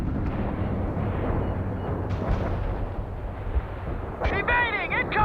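Incoming artillery and gunfire in the real-time strategy game World in Conflict, rumbling booms and crackling shots under steady battle noise, with radio-style voices talking over the din.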